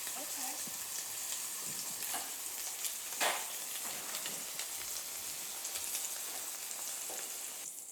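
Leg of lamb steak searing in a pan at high temperature, a steady, close hiss and crackle of frying fat with occasional louder pops and stirring noises, continuous throughout.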